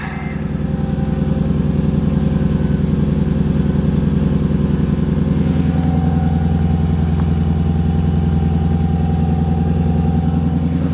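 A Mercedes C55 AMG engine idling steadily and loudly close by, a deep even rumble with a fast regular pulse and a slight change in pitch midway as the idle settles.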